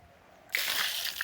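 Water splashes in one sudden, soft rush after a moment of near silence, then keeps splattering and sloshing quietly for under a second.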